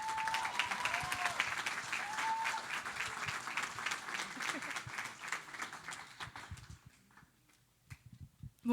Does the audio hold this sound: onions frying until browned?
no